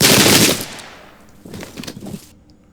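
A loud rolling crash of musket volley fire sounds at the start and fades away. A second, quieter crackling volley follows, with Highland and Jacobite troops trading shots at the Battle of Prestonpans in a Pike and Shot Campaigns strategy game.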